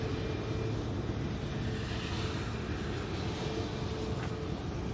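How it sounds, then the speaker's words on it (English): Emirates Airbus A380 arriving at Manchester Airport on a windy day, a steady, heavy low rumble of jet engines and wind noise that holds evenly throughout with no voices. "let's see what the Emirates A380 does for us now"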